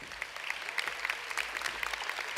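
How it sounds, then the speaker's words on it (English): An audience at a medical school white coat ceremony applauds steadily for Richmond House, a dense, even patter of many hands that sounds somewhat distant and stays unbroken throughout. "And another round of applause for Richmond House"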